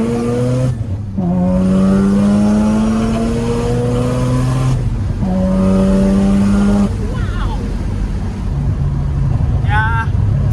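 A Mazda RX-7 FC Savanna rotary engine revs right after its first start in 15 years in a DIY restoration, a loud, close, buzzing drone rising and falling in pitch through repeated throttle blips over steady idle.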